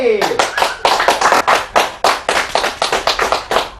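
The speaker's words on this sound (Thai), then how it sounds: "ขอ เสียงปรบมือต้อนรับ" An audience claps to welcome a guest onto a television stage: close, loud applause pulsing in rapid uneven bursts, with brief dips between waves.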